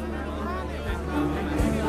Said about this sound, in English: There's a crowd of people blocking our path.